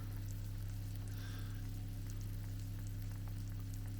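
A baked octopus dish fresh from the oven sizzles and crackles steadily, close up, over a low background hum.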